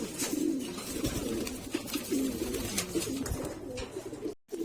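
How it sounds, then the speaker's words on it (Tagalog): Taiwan pigeons coo in repeated low, throaty phrases close to the microphone, with a soft rustle and a brief dropout near the end and no talking. "So, ito na kalapatid siyang ating Taiwan."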